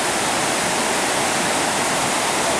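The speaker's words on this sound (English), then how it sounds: "these are the mineral spring waters coming from the mountain, the Ariel mountain, which is a active volcano" Hot mineral spring water at 90 to 100 degrees Fahrenheit, flowing down from an active volcano in Costa Rica, makes a steady, unbroken rushing hiss like a small waterfall, close and fairly loud with no voices.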